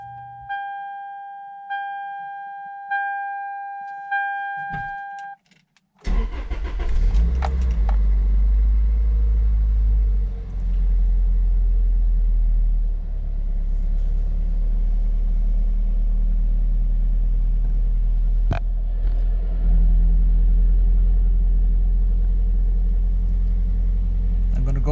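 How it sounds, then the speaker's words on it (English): A Toyota MR2 Spyder with an SMT transmission fault chimes its warning tones a few times, then the engine cranks and catches with a loud rumble and settles into a steady, close idle while someone talks over it. "Let's go ahead and start the vehicle."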